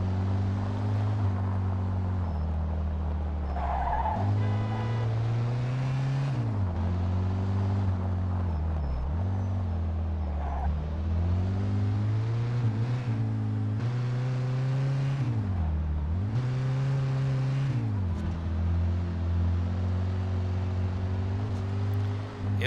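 A car in Mafia 2 drives along, its engine humming loud and close as it repeatedly revs up and drops back through gear changes, running continuously with no talk.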